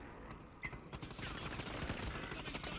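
Gunfire in the shooter Warzone, a rapid, fairly faint string of shots and clatter heard through a busy, noisy game mix.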